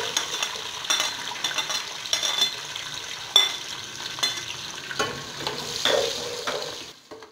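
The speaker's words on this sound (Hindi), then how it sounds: "इसी ऑयल में प्याज शामिल करेंगे।" Onions frying in oil in a pan while cooking a chicken and chickpea curry, a steady crackling sizzle with scattered stirring scrapes and clinks, close and fairly loud, with no talk.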